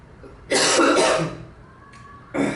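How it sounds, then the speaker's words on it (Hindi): Two harsh, close coughs, the first drawn out and the second shorter, with a quiet pause between them. "खांसी भी गलत टाइम पे आनी होती"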